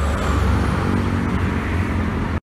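A Jetbus 3 tour bus from the Tamwisata fleet rolls past on a Sumatra road, its broad low engine and tyre rumble steady and close for the whole stretch, with continuous traffic noise and no talk.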